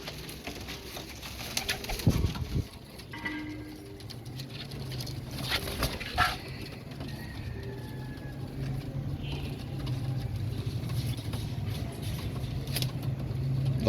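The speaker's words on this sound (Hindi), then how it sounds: "नईम भट्टी साहब के घर के कबूतर माशाल्लाह से" Pigeons at a home loft, including Kamangar, Kasoori and tub-type breeds, coo softly in a few brief low calls over steady patter and rustling, fairly faint, with no speech.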